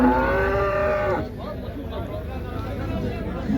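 A cow gives a loud, drawn-out moo at a busy cattle market in Mansa, followed by general crowd hubbub and background chatter.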